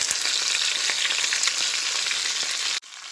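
Chicken pieces frying in olive oil in a pan, a loud, dense, continuous sizzle that cuts off abruptly near the end.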